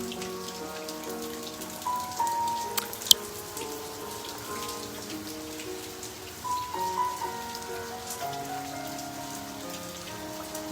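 Gentle rain patters steadily on surfaces with scattered drops and light taps, quiet and continuous under a soft melodic background.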